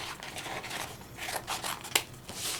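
Scissors cutting paper for a keychain background, a series of close crisp snips and rustling slices with one sharp click near the end.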